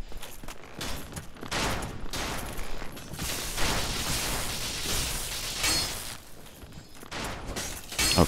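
Sustained bursts of gunfire from an opponent in a shooter video game, dense and rapid rattling shots running almost unbroken throughout, loud and close, with brief lulls near the middle and end.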